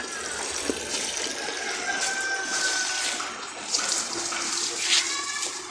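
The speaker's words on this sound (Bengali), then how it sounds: "একজন সে হলো গাছের মধ্যে পানি দিতেছে" Water poured onto plants outdoors in a village setting, a continuous close splashing and trickling stream with a faint whistling tone and distant bird calls in the background.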